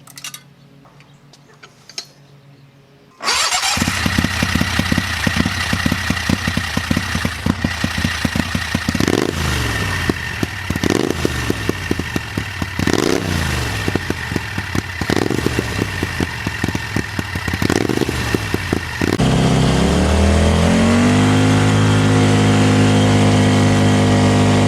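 A turbocharged 670cc buggy engine starts up and runs loud and close, with repeated revs rising and falling over a steady rattling idle, then settling into a sustained high drone.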